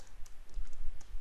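Someone types on a computer keyboard while entering an HTML link address. A short, quick run of soft, close key clicks.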